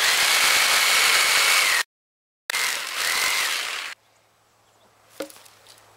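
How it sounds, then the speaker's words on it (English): A jigsaw trims a tab off a wooden lattice for a garden trellis, buzzing loudly in two close bursts of cutting with a short pause between, then falling quiet apart from a faint click. "With my jigsaw, I'm just going to trim this tab off right here."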